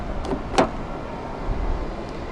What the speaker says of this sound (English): Press the black button to lock the car.